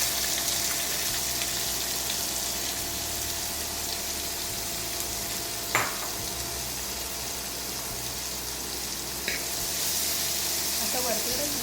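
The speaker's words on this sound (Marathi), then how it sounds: "टाकूया चिरलेला बारीक कांदा" Finely chopped onion fries in hot oil for Puneri misal, a steady close sizzle throughout, broken by a sharp clink or two of a utensil against the pan.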